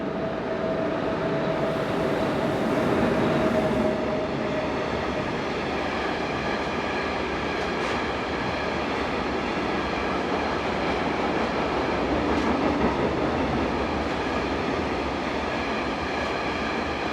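A Class 1144 locomotive hauls a westbound train of fuel tank wagons, a loud, continuous rolling rumble of wheels and cars passing close by, with faint squeals and clatter and no voices.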